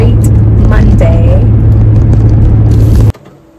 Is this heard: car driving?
yes